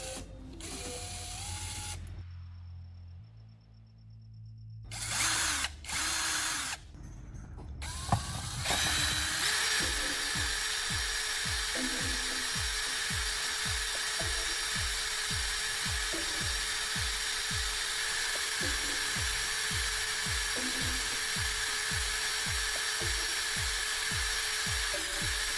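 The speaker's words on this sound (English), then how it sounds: "I'll round off one end of the battery core by mounting it on a drill and" A drill spins a battery core against sandpaper, giving a steady whirring grind with a fast repeating rasp; a few short clatters and pauses come first, then the sanding runs continuously.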